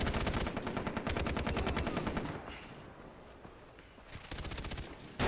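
Rapid automatic MP5 fire in a Far Cry 3 multiplayer match rattles in loud sustained bursts, then a lull with softer background game noise, and another burst near the end.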